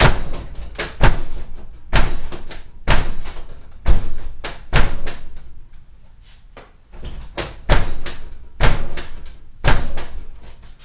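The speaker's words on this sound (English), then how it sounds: "So he's slapping the door shut on his utility bed" A worker in a hard hat and vest slams the door of a utility truck bed shut again and again out in the street, about ten loud, sharp metallic bangs at an uneven pace with brief pauses between them.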